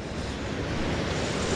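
Ocean surf washing steadily onto a calm beach with small waves, a broad continuous roar with wind buffeting the microphone, no voices.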